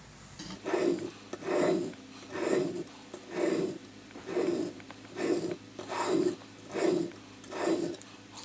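A kitchen knife edge scrapes across a sharpening stone in about eight even, rhythmic strokes, each a close, gritty rasp separated by brief pauses, with no talking.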